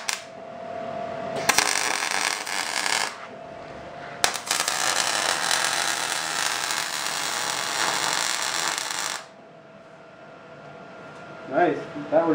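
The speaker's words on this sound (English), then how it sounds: "We're gonna weld that on there, and then we'll be able to bolt it through there." MIG-style welding on a bracket for a 1972 Toyota Celica pro-touring build: two sustained bursts of crackling, hissing arc noise, a short one then a longer run of several seconds, with quiet shop ambience between and after.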